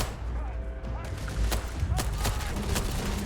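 Several gunshot cracks from the Starfield video game fire at irregular intervals over steady game music and ambience, moderately loud, with no talking.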